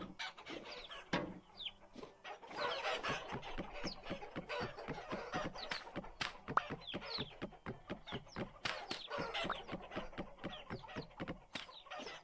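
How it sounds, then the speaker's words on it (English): Chickens in the game Vintage Story clucking busily, a rapid stream of overlapping clucks and squawks with short pauses, fairly close and without talk. "Crazy chickens."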